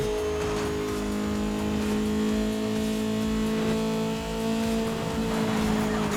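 A car drives steadily in Need for Speed Most Wanted, its engine holding a continuous droning hum with slight shifts in pitch, heard alone without talk.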